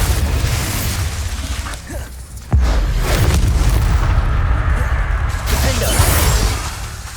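Spell blasts from the video game Hogwarts Legacy, the Confringo and Bombarda curses, detonate in loud, heavy booms with a sharp burst near the middle, set against a constant roar of battle noise.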